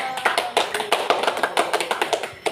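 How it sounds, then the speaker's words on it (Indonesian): A small group in a classroom guidance session claps for a student speaker, with uneven, scattered hand claps forming a quick irregular patter close by. "Beri tepuk tangan buat dia dong"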